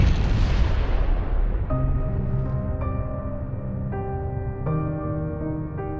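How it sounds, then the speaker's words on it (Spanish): A plane crashing into a residential area explodes, a loud broad rumbling blast that starts at full force and then decays over several seconds. Sustained tonal ringing rises out of the fading roar. "La explosión es tan intensa que los sismógrafos de Shanghái la registran como un temblor."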